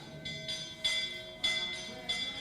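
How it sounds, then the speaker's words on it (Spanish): A bell rings in a studio setting, with about four bright struck tones sounding at a steady pace, each ringing on briefly before the next stroke, clear and moderately loud. "Suena la campana."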